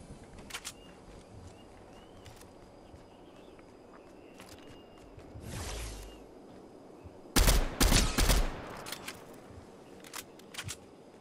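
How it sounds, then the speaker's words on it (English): Gunfire in Fortnite: a cluster of loud, sharp shots fires in quick succession near the middle, followed by a few fainter scattered pops, set against quiet background noise. "somebody's shooting at him"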